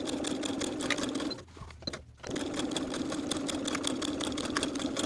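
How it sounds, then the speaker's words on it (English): Sewing machine stitching pocket linings to a front pant piece, running in fast rhythmic bursts with a short pause in the middle before resuming steadily. "Then we'll sew those pocket linings to the front pant with a 5/8 inch seam allowance."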